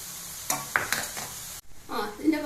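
Mostly cooked basmati rice is stir-fried in a pan for vegetable fried rice, with close scraping and tossing strokes over a soft sizzle, a brief pause, then more stirring.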